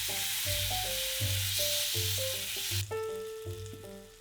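Ketchup, sake, soy sauce and beet sugar sauce sizzling in a pan over low heat, a steady close hiss with musical tonal hum running underneath.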